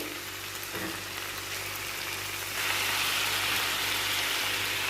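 Potato pieces frying in oil with salt and turmeric, a continuous soft hissing sizzle that grows a little louder partway through, heard alone without talk.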